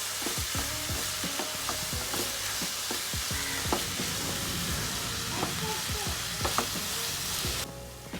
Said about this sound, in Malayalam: എന്നിട്ട് നല്ലപോലെ ഒന്ന് ഇളക്കി കൊടുക്കും.